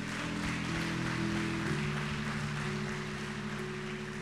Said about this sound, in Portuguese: Aplauda a palavra do Senhor mais uma vez